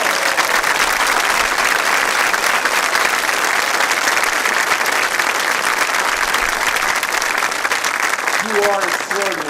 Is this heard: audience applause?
yes